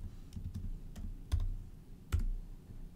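Typing on a computer keyboard, a handful of close, crisp key clicks in an uneven rhythm, two of them noticeably harder, in a quiet room with no talk.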